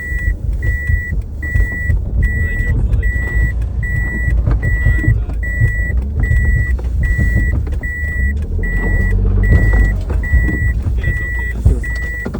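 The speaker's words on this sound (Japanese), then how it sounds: "なんか車来ましたね" A car arriving on a snow-packed dead-end road, its engine rumbling close and steady while a regular electronic beep repeats about every half second throughout.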